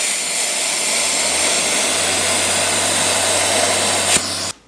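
Welding brake parts for a custom drift brake on a Nissan D21 Hardbody at 200 amps: a steady, loud crackling hiss runs continuously for several seconds, then cuts off abruptly.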